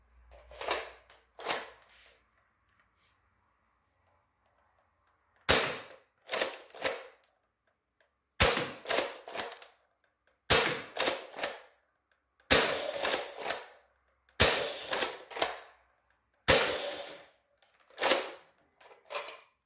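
A modified Nerf Longstrike blaster fires AccuStrike darts, giving a sequence of about six sharp snapping shots, each followed by quick mechanical clacks from priming, spaced a couple of seconds apart in a quiet setting.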